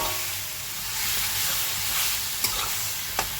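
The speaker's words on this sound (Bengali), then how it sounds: "এবার সবটা মশলা আমি সুন্দর করে কষিয়ে নেব" A spice paste of ground cumin, coriander and turmeric sautés in a pan: a soft, even sizzle with a couple of sharp stirring clicks near the end, close and quiet, with no voices.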